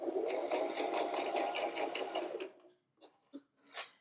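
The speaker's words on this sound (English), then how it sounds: "I'm just going to start sewing." A sewing machine stitches quilt fabric in a steady, fast continuous run for about two and a half seconds, then stops, followed by a few brief, faint clicks and rustles.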